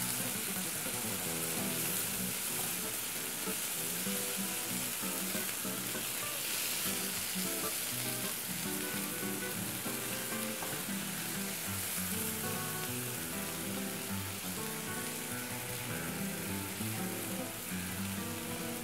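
An appetizer fries in a pan with a loud, steady, crackling sizzle that stays constant throughout, with occasional stirring and no voices.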